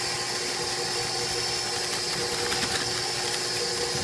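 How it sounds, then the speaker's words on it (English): An electric kitchen mixer whirs steadily while stirring flour into cookie dough, a continuous close mechanical hum with a slight rattling texture and no talk over it. "put the mixer back on to stir, and we're going to throw in our flour"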